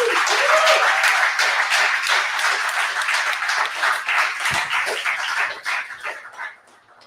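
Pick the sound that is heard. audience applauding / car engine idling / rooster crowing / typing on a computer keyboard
audience applauding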